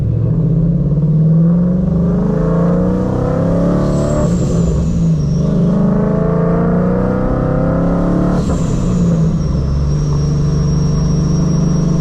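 A Ford S197 Mustang engine fitted with a new Paxton Novi 2200 supercharger runs loud and close, a steady deep rumble that climbs in two rev swells with a rising whine, then settles back to idle.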